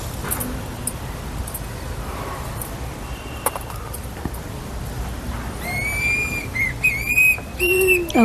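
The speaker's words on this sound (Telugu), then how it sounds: "ఇది చూడండి విజిల్స్ వేస్తుంది." Small bird in a terrace garden giving a few clear, high whistled notes, quiet at first and then more frequent and prominent near the end over faint background noise.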